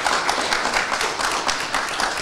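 An audience at a New Year's Eve show claps together in a sustained burst of applause, many hands beating close and steady without talk.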